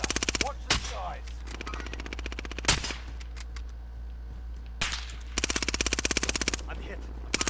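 Video game gunfire in Call of Duty: Modern Warfare, automatic bursts of rapid machine-gun shots at the start and again near the end, with single sharp reports and quieter battle noise in between.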